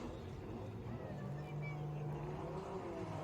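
Drift cars at a Clutch Kickers $100,000 Drift Series event roar off the line, a steady engine drone with revving under crowd and commentary noise.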